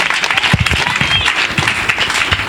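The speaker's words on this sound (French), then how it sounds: "Acclamation à Jésus-Christ." Congregation at a regional religious convention in Daoukro applauding and acclaiming, with loud, uneven clapping and crowd voices mixed in, close and energetic throughout.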